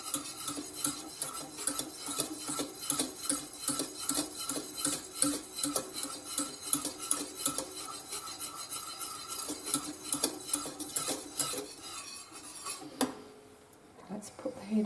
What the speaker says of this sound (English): make sure everything's stirred right through